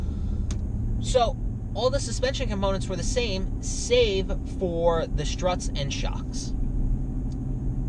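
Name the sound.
car driving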